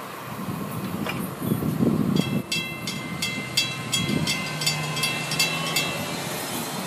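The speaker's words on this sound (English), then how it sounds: "FEC 210 made its way across Fort Pierce" FEC freight train 210 passing through Fort Pierce, a steady rumble of rolling railcars with rhythmic clickety-clack of wheels on the rail joints, close by and continuous.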